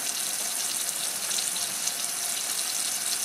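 Running tap water pours steadily into a sink while hands scrub beneath it, a constant soft hiss lasting a few seconds with no voices.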